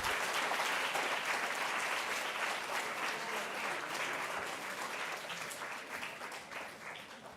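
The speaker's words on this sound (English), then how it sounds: "A big round of applause for their blissfulness, please." An audience at a sustainable waste management forum applauds steadily for several seconds, a dense wash of clapping that slowly fades toward the end.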